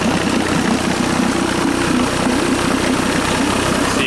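A 1955 Chris Craft boat motor running after a cold start, a loud, steady droning idle with a low throbbing pulse, continuous and close, with no talking.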